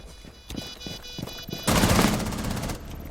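Gunfire from the Rainbow Six Siege video game during a tournament match: a few sharp shots early, then a dense, loud burst of rapid fire lasting about a second, over game background noise.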